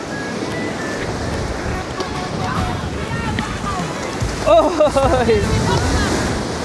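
Ocean waves roll and wash onto Puka Beach on Boracay, a surfing spot, with a steady roar of surf and wind buffeting the microphone, while a person calls out briefly midway over the noise.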